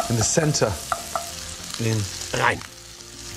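Italian sausages hit a hot pan with a crackling sizzle that runs under brief spoken words.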